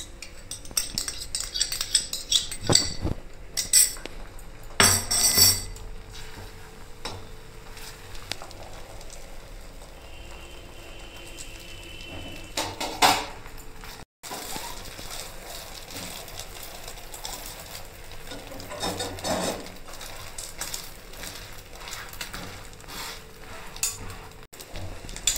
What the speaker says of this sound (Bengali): এইভাবে আমি আবার উল্টে নিলাম, ভেজে নিলাম।